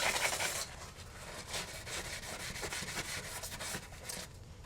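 Brisk rubbing and scrubbing on the rear brake rotor of a BMW E46 to clean off a pad imprint, a close, steady scratchy rhythm of quick strokes with no voices.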